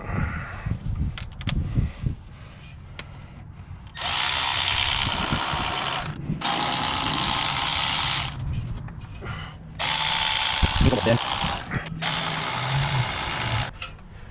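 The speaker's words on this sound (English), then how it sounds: "I'm gonna unscrew them with the electric ratchet" Electric ratchet whirring loose long bolts on a Ford Modular 5.4 engine during a cooling system rebuild, three sustained bursts of loud buzzing separated by short pauses and faint clinks, no talking.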